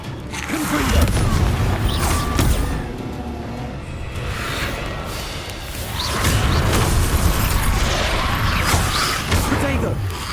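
Magic explosions from the Confringo fire spell in the Hogwarts Legacy video game burst repeatedly over a dense, busy game soundscape, several booming blasts spread across the stretch with continuous combat noise between them.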